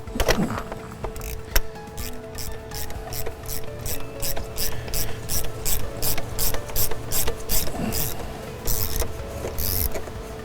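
A ratchet with a Snap-on socket clicks in a quick, steady series of bursts removing the fuel filter cap on a 2003-2007 Ford Powerstroke 6.0, up close and loud, with short pauses between strokes and no talking.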